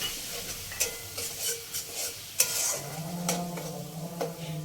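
Tomato spice paste with a splash of water is stir-fried in a pan for a tangra fish curry, giving a low sizzle with intermittent scraping and stirring strokes, fairly quiet and close.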